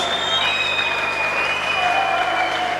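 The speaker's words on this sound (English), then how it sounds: "give Byron a big round of applause in centering" A crowd applauds Byron Gallagher in a loud, dense wash of clapping and cheering that continues unbroken through the short moment, with a whistling tone cutting through it.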